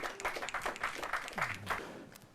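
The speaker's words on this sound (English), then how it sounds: "It's a round of applause for them." A small crowd at a university law competition claps in scattered, uneven bursts, fairly faint, with a voice murmuring briefly underneath.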